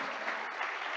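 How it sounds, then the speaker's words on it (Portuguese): A church congregation claps together during a missionary conference service: steady, dense applause from many hands fills the brief moment without a break. "Vamos aplaudir ao Senhor"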